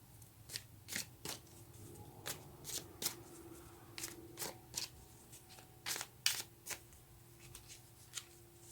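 Tarot cards shuffled by hand at a quiet reading, a series of short crisp riffling flutters and slaps in irregular bursts, close but soft.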